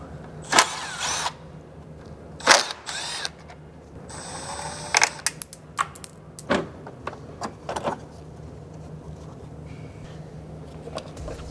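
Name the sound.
removing T30 screws from a Porsche Cayenne intercooler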